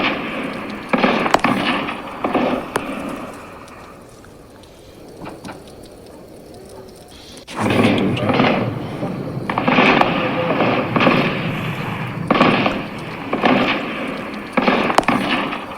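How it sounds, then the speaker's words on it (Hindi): Heavy gunfire from a militant attack on an army picket in Rajouri: dense volleys of sharp cracks and bursts, loud and sustained, easing into a quieter lull before a renewed barrage of rapid shots resumes. "आप गोलियों की आवाज सुन सकते हैं।"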